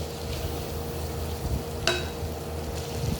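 Carrots and leeks stirred in a pan for chicken cheese spaghetti, giving a soft steady sizzle with one sharp scrape of the utensil partway through and faint scraping near the end, close and with no talking.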